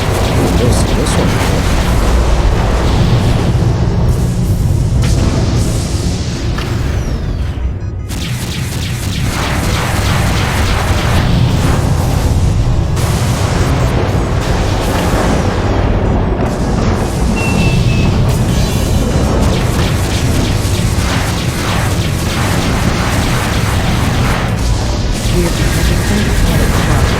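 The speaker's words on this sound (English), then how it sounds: "No indeed, those are fucking bombers." Bomber attack in a video game, with loud, continuous explosions and booming blasts rolling on without pause for nearly half a minute, dense and close, with voices faintly underneath.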